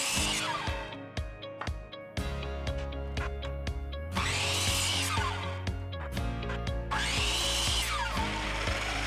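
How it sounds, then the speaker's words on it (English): Power saw cutting whiskey barrel boards along their edges at a 10-degree angle, loud and sustained, with bursts of high whining cut noise that start, stop and rise again over a steady motor hum. "here I'm just cutting these boards at 10 degrees on the edges"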